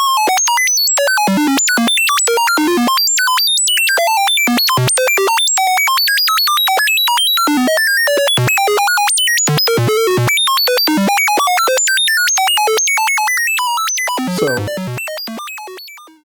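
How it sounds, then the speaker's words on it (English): Square wave tone from a VCV Rack synthesizer patch sounding as a fast, dense stream of hollow, buzzy computer-style beeps at random pitches, loud and continuous before fading out at the very end. "Now we're going to hear the square wave."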